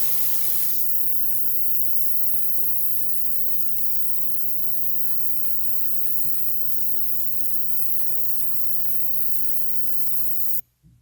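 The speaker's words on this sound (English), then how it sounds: "I'll set the amount of time that I want the cleaner to clean for, and then just simply turn it on." A carburetor parts cleaner machine runs in water and detergent, giving a steady, even hiss with a low hum that holds for about ten seconds before cutting off abruptly.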